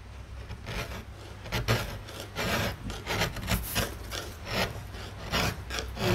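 Gouges carve a wooden block for a woodcut print, giving repeated rasping scrapes in an uneven rhythm, close and fairly loud, with no talking.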